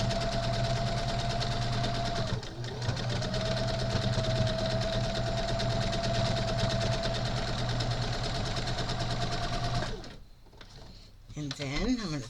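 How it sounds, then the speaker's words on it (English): Sewing machine running steadily while stitching a row down the middle of a scrappy quilt, a continuous close motor hum with a brief pause near the start, stopping near the end. "now we're gonna go ahead and stitch, going down the middle first with one row of stitching"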